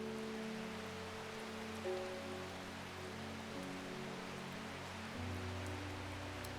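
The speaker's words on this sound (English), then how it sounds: "Another rainy day," Steady rain falls in the video game Strange Horticulture, a soft continuous patter beneath a low, sustained musical drone, with no voices.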